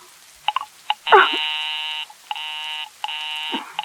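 In a 1945 radio drama, a telephone busy signal sounds as repeated steady electronic tones with short gaps between them. A brief clatter like a handset being handled comes in early, and no voices are heard.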